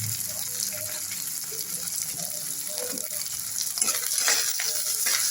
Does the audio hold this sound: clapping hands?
no